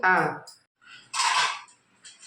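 Metal pan set down on a kitchen stove with a clanking knock, followed by a second scraping metallic clatter, briefly following a spoken voice.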